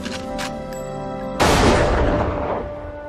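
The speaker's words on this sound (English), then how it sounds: "20-year-old Conn Smythe doesn't mind the sound of gunfire" A loud, booming burst of gunfire erupts over sustained musical tones, its rumble decaying slowly over the next second or so.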